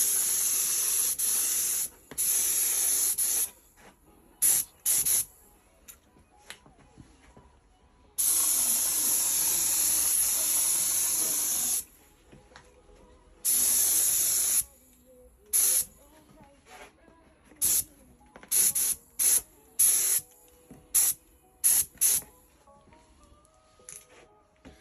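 Aerosol spray paint hisses onto a Kawasaki ZX9R track bike while a flame design is sprayed, in bursts of varying length: several long steady blasts and many short quick puffs separated by quiet pauses.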